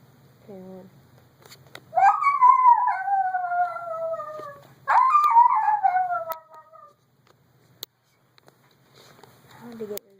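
A dog answers a dog whistle with two long, loud howls that slide downward, each lasting about two seconds, framed by short yelps and whimpers in a quiet room.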